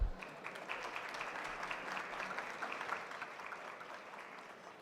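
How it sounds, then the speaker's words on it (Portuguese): Audience applause at a business innovation fair session, steady clapping from a seated crowd filling the whole stretch at an even level after a sharp start. "Palmas para ele, por favor."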